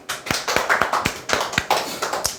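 A few people clap together during a coaching session, with uneven, fairly close hand claps forming a short burst of applause and no talking.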